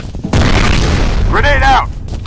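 A grenade goes off in the F.E.A.R. Combat multiplayer shooter, producing a loud, sudden boom that rumbles on for more than a second. A shouted game voice line overlaps the blast.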